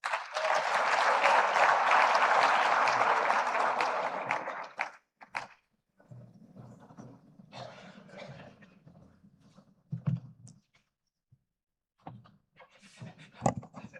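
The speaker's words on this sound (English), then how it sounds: "A round of applause, please" An audience at a conference forum applauds a speaker coming to the stage: a dense burst of clapping for about five seconds that fades out, followed by quieter room noise and scattered faint sounds.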